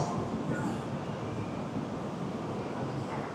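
Steady broadband rumble and rush of a Shinkansen bullet train at Osaka station, a continuous roar at even loudness with no breaks, sounding close and filling the platform.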